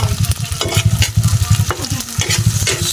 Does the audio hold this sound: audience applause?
no